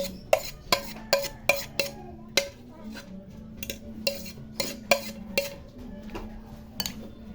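A spoon stirs kinilaw ingredients in a bowl, knocking out a run of bright, irregular clinks and taps against the dish, close and clear, with a faint scraping hum between the strikes.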